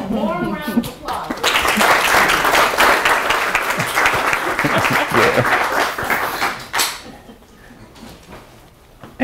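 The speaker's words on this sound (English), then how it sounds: "Give them a warm round of applause." Loud, dense applause from an audience at an academic lecture swells in and sustains for several seconds, then fades out, with a voice speaking briefly at the start.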